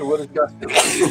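A single sneeze bursts out near the end of a short stretch of people talking in a room, loud and close, following a few spoken words.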